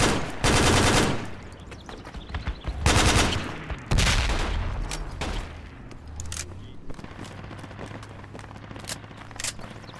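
A .50 cal machine gun in the military shooter Project Reality, firing loud sustained bursts, with a long roaring volley, further bursts and scattered distant shots trailing off under ongoing battle noise.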